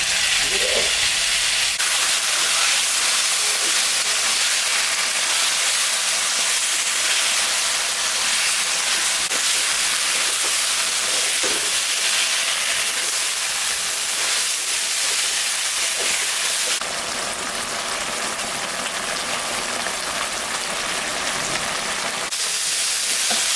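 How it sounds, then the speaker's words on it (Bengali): A ground paste of ginger, cumin, dried and green chillies sautéing with turmeric and salt in a pan, giving a continuous loud hiss and sizzle that shifts slightly in tone partway through, with no talking. "মশলাটা কষানো হয়ে গেছে"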